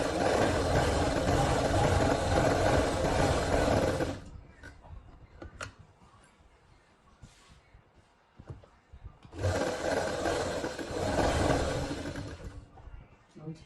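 Electric sewing machine stitching the side seam of a suit, loud continuous whirring run for about four seconds, a quiet pause with small clicks, then another sustained stitching burst.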